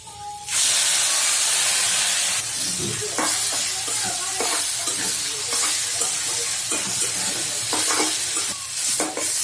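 Leafy greens hit hot oil tempered with onion and garlic and set off a sudden loud sizzle that keeps hissing steadily, broken by repeated scraping stirs of a spatula in the pan.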